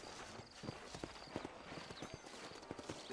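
Horse hooves clip-clop in the video game Red Dead Redemption, a quiet, steady walking rhythm of soft knocks with faint tack jingles and a low background rumble.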